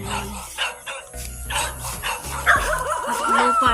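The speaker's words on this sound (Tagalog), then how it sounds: "Yung mga aso. Ang daming mga aso." Several dogs bark and yip in quick overlapping bursts on rural land with tall grass and banana plants, fairly close and loud, with a whining, higher-pitched yelp toward the end.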